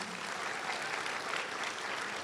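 Brief, steady applause from an event audience for a staff member at a Martin Luther King Jr. Day celebration, an even patter of many hands heard alone.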